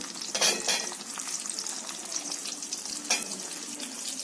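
Onions and carrot pieces sizzle in hot oil for vegetable biryani, a steady broad crackle with two louder stirring scrapes near the start and end, close and without talk.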